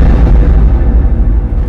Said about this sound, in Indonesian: meledak kapal kita.